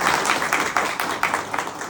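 Audience clapping for a visiting swami at a Swaminarayan temple in Golana, a steady wash of many hands with small rhythmic swells, moderately loud and continuous throughout.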